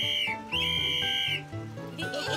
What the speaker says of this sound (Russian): Кстати, а для чего нам нужен этот свисток?